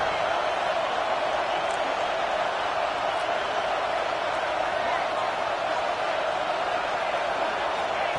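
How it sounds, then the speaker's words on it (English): Stadium crowd noise in the NCAA 26 college football video game, a steady, dense roar that holds at an even level throughout as fans push the defense for a red zone stop. "This crowd is trying to inspire this defense to make a big red zone stop."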